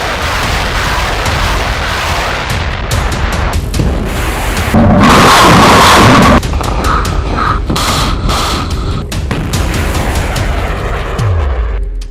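Loud, sustained rumble of blasts and booms from a Hamas missile strike on the Israeli city of Eilat, with a denser burst of explosion noise near the middle and dense crackling throughout.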